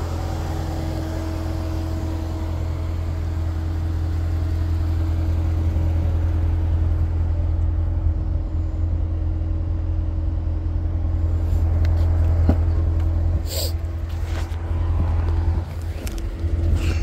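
A 2016 Corvette Stingray accelerates with a steady, deep engine drone heard from inside the car, rising slightly as it gathers speed, alone with no talk.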